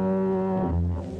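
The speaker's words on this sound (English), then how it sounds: "the only sound is the endless bleat of the foghorns, warning ships of a rocky shore" A deep, sustained foghorn drones steadily in San Francisco, a low moaning tone that shifts slightly in pitch partway through, loud and continuous with no other sounds.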